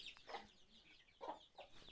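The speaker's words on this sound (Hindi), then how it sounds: "मुर्गी के बच्चे यहाँ पर" Hens and chicks clucking and cheeping in a village yard, a few quick soft calls in short bursts, fairly close but quiet, with no talking.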